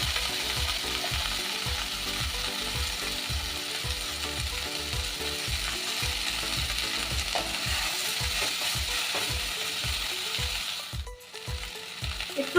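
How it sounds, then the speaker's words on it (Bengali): Chopped okra sizzles in hot oil in a pan, a steady loud frying hiss with a rapid rhythmic scraping or ticking running underneath, close and continuous, with a brief dip near the end. "এবার এই ঢ্যাঁড়সটা আমি অল্প ভেজে নেব"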